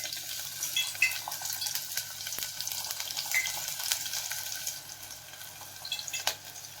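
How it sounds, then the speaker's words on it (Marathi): Finely chopped onion dropped into hot oil for tempering a spicy mutton dish, a steady crackling sizzle close to the pan with scattered sharp pops and stirring clicks, no talking. "इकडे मी बारीक कांदा चिरून घेतलाय, तो घालते फोडणीसाठी."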